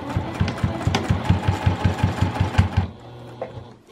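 A sewing machine stitches along an apron seam with backstitching, its rapid, even thumping pulses running close and loud for about three seconds before stopping, followed by quiet handling noises.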